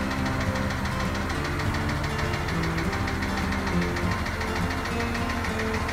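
A turbocharged truck engine runs steadily at close range, a loud continuous rumble with a knocking, vibrating texture that holds even throughout.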